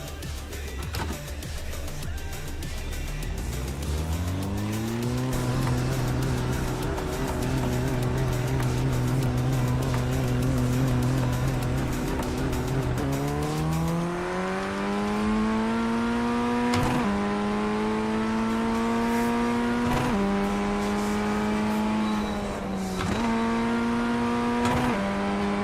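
A Mazda Miata race car in the iRacing sim revs up through the gears, and the engine note rises and drops with each shift. A tire squeal comes in briefly, and the car stays loud and close throughout.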